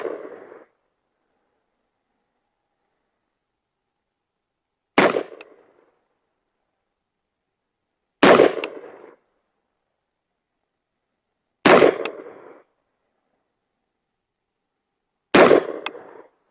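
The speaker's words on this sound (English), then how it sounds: "let's shoot a 5-shot group at the bottom right target" An AR pistol fired five times from a rest, each shot a sharp, loud crack with a short tail, spaced about three to four seconds apart in otherwise silent surroundings.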